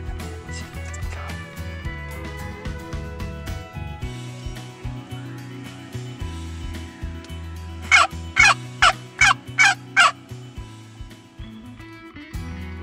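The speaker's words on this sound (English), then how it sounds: "We just set up where 2 turkeys gobble." Wild turkeys gobble during a youth hunt, a quick run of six loud, rattling gobbles near the middle over a bed of soft low background tones.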